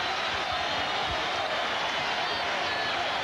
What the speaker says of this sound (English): listen to the New York crowd cheer their team